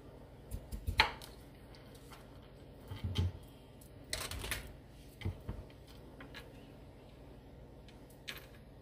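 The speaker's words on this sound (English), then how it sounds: "Now I'm going to cut up these potatoes first. I'm just cutting in half" A knife slices through potatoes on a cutting board, cutting each in half, giving a handful of separate chopping thuds spaced irregularly, fairly faint with quiet gaps between.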